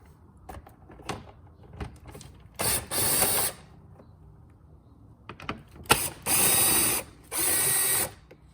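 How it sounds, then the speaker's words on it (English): A battery-powered ratchet loosens a nut on the air filter housing of an Acura TL, with a few small clicks and taps followed by three close, loud motorized whirring bursts, each lasting about a second, and no talking. "Well, it looks like the nut actually stays in there when you loosen it."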